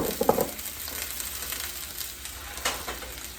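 Apple juice hits a hot pan of chicken with a broad, steady sizzle, a short burst of louder spattering near the start easing into a continuous frying hiss, with no talk.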